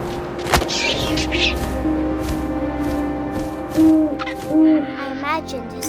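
An owl hoots in the game What Remains of Edith Finch, two short soft hoots in the second half over a low windy bed, preceded by a sharp thump and faint rustles.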